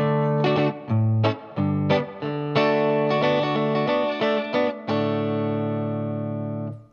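Electric guitar plays the opening riff, with bright strummed chords in quick bursts ending on a sustained ringing chord, with effects on the tone and no talking.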